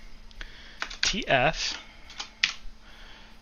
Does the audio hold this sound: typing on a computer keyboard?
yes